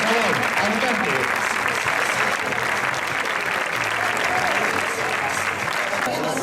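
A crowd at a street festival in Puerto de Sagunto gives a band a sustained round of dense clapping and cheering, loud and continuous throughout, with a voice talking underneath.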